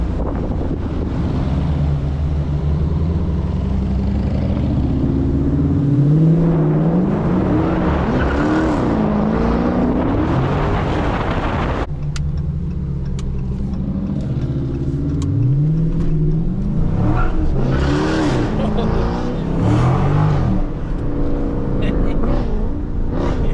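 A Dodge Charger Scat Pack 392 V8 rumbles and revs repeatedly, rising and falling in pitch, loud and close with steady wind noise throughout.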